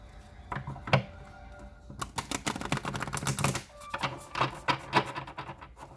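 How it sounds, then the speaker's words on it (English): Tarot cards are shuffled in quick bursts of crisp riffling clicks, a short flurry, a pause, then another longer run, close and fairly quiet. "I'm still breaking in these cards when it comes to shuffling them"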